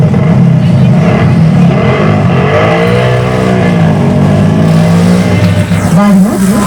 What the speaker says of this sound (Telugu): వారిలో 2 మారుతి కార్లు, 3 మోటార్ సైకిళ్లతో మరణ పోరాటం.